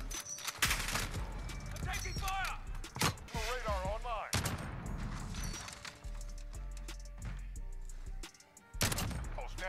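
Gunfire in Call of Duty Modern Warfare, with repeated sharp shots and bursts, explosions and crashes amid game radio voices, fairly quiet overall with loud impacts standing out.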